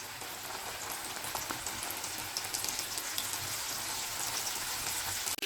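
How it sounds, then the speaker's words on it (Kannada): Rava-coated bolanjeer fish frying in hot oil, giving a steady, dense crackling sizzle with scattered pops throughout and no talk. "ಈಗ ನಾನು ಕೋಟಿಂಗ್ ಮಾಡಿಟ್ಟ ಫಿಶನ್ನು ಇದಕ್ಕೆ ಹಾಕುವ."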